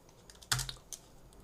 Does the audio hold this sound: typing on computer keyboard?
yes